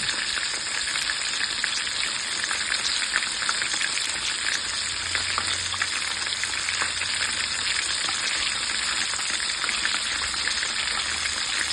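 Chicken for a sandwich fries steadily in hot oil, a dense, even crackle and sizzle that holds loud and close throughout with no voices over it.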